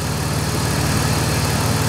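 A 2004 BMW 525i with a 2.5 liter engine and automatic transmission idles steadily nearby, a low continuous engine hum with a constant drone throughout and no voices.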